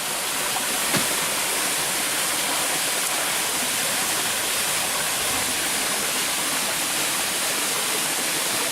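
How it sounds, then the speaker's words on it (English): A waterfall in Puerto Rico roars as a loud, steady, unbroken rush of falling water, close by and alone with no voices. "We're at Frankie's lovely, beautiful waterfall in this unbelievably gorgeous piece of earth in Puerto Rico"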